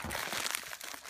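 Packaging from a TheCubicle.us order crinkles and crunches as it is torn open, a steady close rustle of wrapping with no talk.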